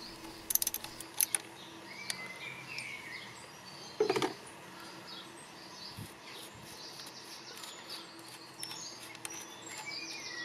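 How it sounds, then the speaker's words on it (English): A ratchet with an 8mm socket undoes the two coil pack bolts on a Ford 1.0 EcoBoost engine, giving a few short bursts of quiet metallic clicking in a faint, hushed workshop. "you will need an 8mm socket and ratchet and undo the two bolts securing the coil pack."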